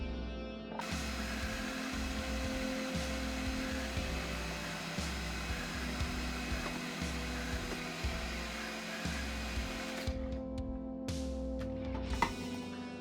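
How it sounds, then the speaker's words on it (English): A food processor whirs steadily while blending garlic scapes and oil for pesto, its motor roaring loud and close in rhythmic pulses, then cutting off near the end with a few clatters. "So far, all I have in the blender, in the processor, is garlic scapes and oil."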